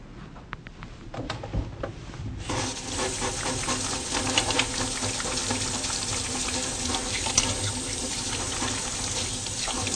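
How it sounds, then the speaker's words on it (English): Hands being washed under a running tap at a sink before a cardiovascular examination, a steady close rush of water with small splashes, starting abruptly after a few seconds of quieter handling noise, with no voices. "I'm first going to wash my hands."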